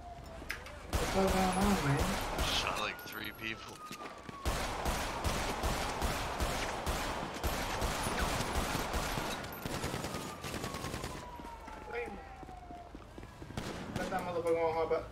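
Gunfire in a Grand Theft Auto roleplay game: dense bursts of rapid shots and volleys crackle repeatedly over a long stretch, with people talking over the shooting.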